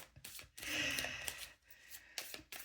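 Tarot cards being shuffled by hand in a few quick, soft riffling bursts with short pauses between them, close and faint, with no talking.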